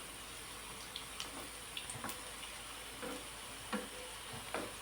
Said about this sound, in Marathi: आता हे व्यवस्थित असे आपण खमंग होईपर्यंत भाजून घेणार आहोत किंवा शॅलो फ्राय करून घेणार आहोत.